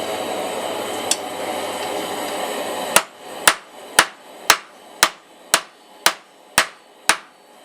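Hammer striking mystery steel flat on an anvil during forging: a faint tap, then eight loud ringing metallic blows at a steady, slightly uneven pace, each decaying quickly, with a hissing forge background early on.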